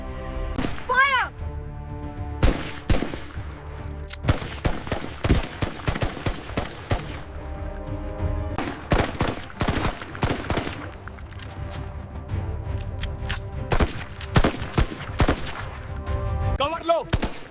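Guns fire in a shootout between police and dacoits in the Chambal region, sounding as loud repeated bursts and single cracks across a long stretch, with shouted voices mixed in.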